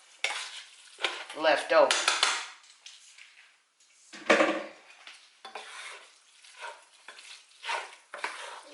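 Spaghetti noodles being stirred into sauce for a spaghetti bake, soft wet scraping and clinking of a utensil against a pot in irregular strokes, close and fairly quiet, with a few brief spoken words.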